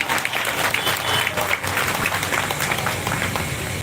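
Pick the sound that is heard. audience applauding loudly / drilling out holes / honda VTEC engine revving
audience applauding loudly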